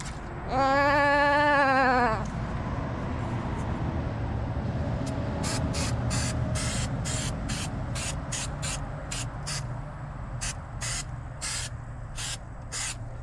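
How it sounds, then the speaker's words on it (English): Fluid Film sprayed onto the front brake hub of a 2008 Honda Ridgeline, heard as a string of quick, evenly spaced aerosol spritzes that follow a brief bleating squeal, against a steady low background hum. "just a light spritz with some fluid film"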